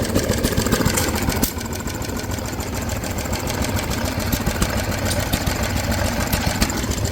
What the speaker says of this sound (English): I see another engine running over here.